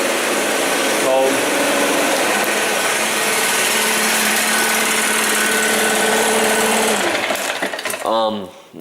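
A Stihl BR 600 backpack blower starts from cold and roars loud and close at steady high revs for several seconds, then winds down, with a brief pull-start burst near the opening.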